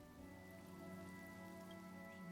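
Steady rain from a Honkai: Star Rail cutscene patters on a surface, alone and even throughout, over a low musical drone with sustained tones.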